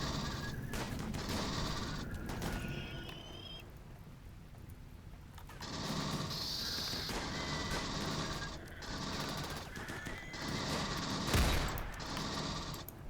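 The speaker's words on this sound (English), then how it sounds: "We might as well just start fucking shooting." Dense, continuous video-game gunfire in a RimWorld battle, rapid rattling shots and impacts with crackling bursts throughout, loud and busy, no talk.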